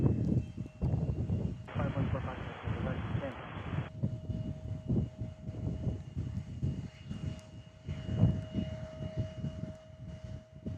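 At Kansas City International Airport, an airliner arrives on runway 19 left, its engine roar a moderate, distant rumble that rises and falls under ongoing talk.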